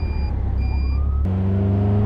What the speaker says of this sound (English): Oh, police car.